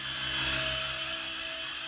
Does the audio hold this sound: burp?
no